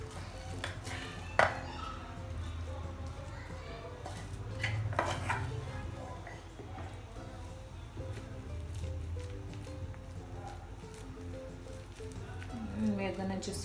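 No-bake peanut biscuit cake mixture scraped from a bowl into a butter-greased plate, soft clinks and scrapes of utensil against dish with a sharp knock early on, under someone talking throughout.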